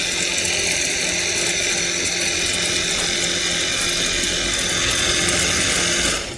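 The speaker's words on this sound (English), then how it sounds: "let's see if we can spray this here on the rim" A Hammersmith HydroBlast cordless power washer sprays a car wheel rim, a steady, loud mechanical whir with a hissing spray running continuously for several seconds, then cutting off abruptly near the end.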